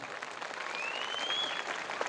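An audience at a school annual day celebration in Erode claps steadily for the children, a dense, even patter of many hands heard fairly faintly at a distance.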